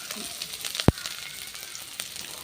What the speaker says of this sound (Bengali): এখানে তো আমি তেল দিয়ে দিচ্ছি আর দিয়ে দিচ্ছি কাঁচামরিচ পেঁয়াজ আর এখন দিয়ে দেবো হচ্ছে রসুন